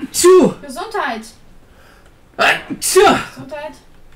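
Two close sneezes from a person doing woodwork, loud and near, each sharp burst followed by a short trailing breathy sound, with a quiet pause between them.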